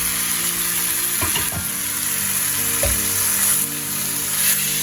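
Roasted aubergine (brinjal) tipped into a pan of frying tomatoes and oil, giving a steady loud sizzle throughout with a couple of soft thuds and clatters as the mash goes in.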